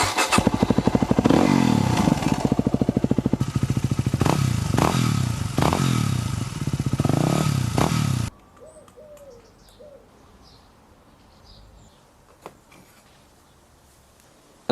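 A motorbike engine with its exhaust baffle fitted starts and idles with a steady throbbing rumble and a few revs, close and loud, then cuts off after about eight seconds, leaving quiet outdoor background with faint birdsong.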